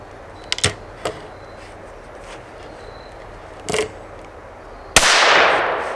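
A .22 Magnum rifle fires one loud, sharp shot near the end. The crack trails off in a brief decay and follows a few small clicks and handling noises outdoors.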